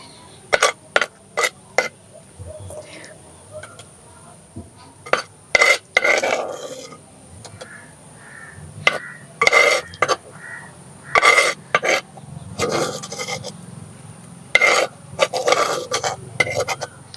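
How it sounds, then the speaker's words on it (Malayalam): A spoon repeatedly scraping and clanking against metal pots as cooked moringa meat is scooped out, sharp irregular knocks separated by short quiet gaps. "നമുക്ക് ഈ പാത്രത്തിലോട്ട് കോരിയെടുക്കാം"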